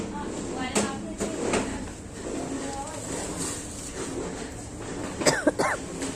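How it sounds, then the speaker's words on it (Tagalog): A person coughs a few times, short and close, over steady room noise and some background chatter in a grocery store. "Inuubo ako guys."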